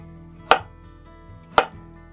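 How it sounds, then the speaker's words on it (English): A knife slices thin rounds from a single potato, two crisp cuts about a second apart, close and clear over a quiet kitchen background with no talking. "we're going to take that one potato and we're going to slice that potato same way."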